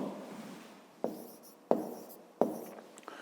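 Pen strokes write numbers by hand on paper during a fifth-grade maths exercise, three distinct quick taps and scratches spaced under a second apart in a quiet room.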